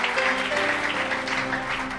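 An audience at a church service applauds, giving a dense and continuous wash of clapping from a crowd with a few voices mixed in.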